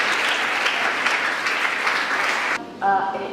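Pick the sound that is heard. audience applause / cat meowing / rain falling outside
audience applause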